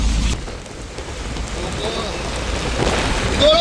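Rain falls on the seashore at Jaffna as a loud, steady, close wash mixed with gusty wind noise. A voice can be faintly heard underneath.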